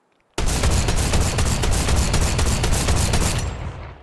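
Gunfire from a new Fortnite weapon that shoots through walls: a sudden, loud, continuous rapid burst of shots lasting about three seconds, then a short fading tail.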